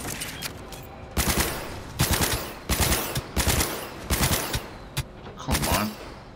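Rapid automatic gunfire in Cyberpunk 2077 comes in several loud bursts of about a second each, separated by short pauses and layered over continuous game background noise.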